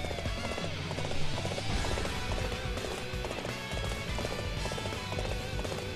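Hooves clip-clop in a fast galloping rhythm as a horse runs in the combat game Dynasty Warriors 8, steady and close over a dense bed of battle music and game effects.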